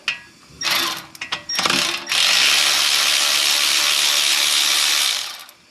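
A ratchet with a 10 millimeter socket removes a hub bolt on a 2014 Nissan Pathfinder front hub assembly, with a few short bursts of loud, close, rapid clicking, then a long continuous ratcheting run.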